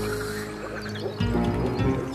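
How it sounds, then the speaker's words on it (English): Moor frogs croak in a chorus at a wetland pond in early spring courtship season, a dense, low, bubbling chatter of many overlapping calls that swells louder partway through. "The moor frogs are starting to court and mate."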